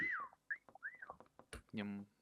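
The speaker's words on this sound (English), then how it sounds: "I blow the first whistle." A whistle is blown in the video game Meccha Chameleon, with short rising and falling tonal whistle notes mixed among quiet, close talking.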